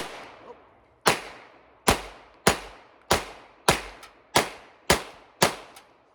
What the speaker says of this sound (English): Let's try some point shooting.